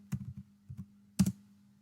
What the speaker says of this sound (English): just type Python